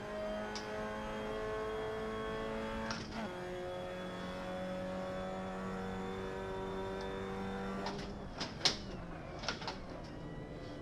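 Race car pulling out of the first corner on a grippy track, engine note rising steadily as it accelerates in rising harmonic sweeps, heard close from onboard, with a brief gear change around the midpoint and sharper clunks near the end.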